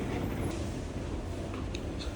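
A subway train runs in a steady, loud rumble with faint rhythmic clicks from the wheels and no voices.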